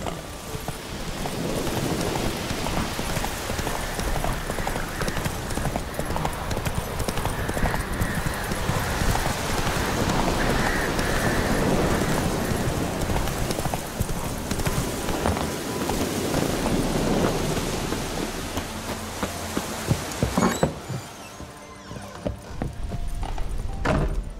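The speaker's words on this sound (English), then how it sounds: "Hey-ya! Not so fast, Roach." A horse gallops in The Witcher 3 video game, a steady stream of rapid hoofbeats with some wind-like noise, close and continuous, briefly quieting near the end.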